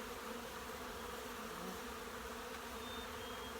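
Honey bees buzz steadily in an open hive during an inspection, forming a dense, continuous hum that stays close and fairly quiet with no voices.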